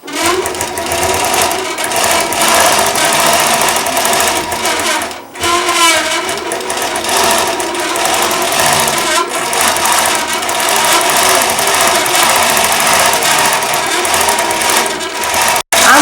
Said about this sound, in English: it's going to continue sewing to the end of the pattern again.